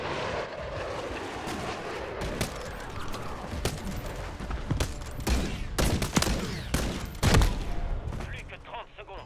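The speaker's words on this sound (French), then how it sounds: "J'espère que tu feras un full team avec ton bombardement." Bombardment killstreak in Call of Duty MW3 sets off a rapid string of heavy explosions and blasts, dense and rumbling, with scattered sharp cracks throughout; some talk sits underneath.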